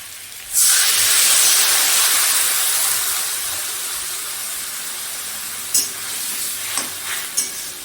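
Water poured into a pan of potatoes frying for aloo chochhori bursts into a loud, broad steam hiss that slowly settles to a steady sizzle, with a few soft clinks of stirring near the end; no voices.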